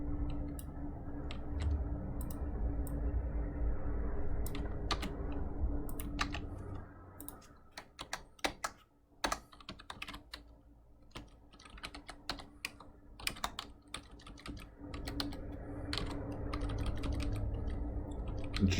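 Keystrokes on a computer keyboard entering numbers, a run of sharp separate clicks in the middle stretch, heard over a steady low background hum that fills the start and end.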